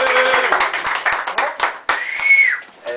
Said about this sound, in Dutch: Applaus voor Grietje.